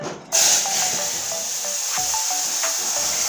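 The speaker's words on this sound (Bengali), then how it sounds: "এখানে আছে আলু বেগুনের তরকারি এটা ঢেলে দিচ্ছি" Potato-eggplant curry poured into a pan of hot tempering erupts in a loud, sudden hiss that settles into a steady, close steaming sizzle, with faint clinks of utensils, no talk.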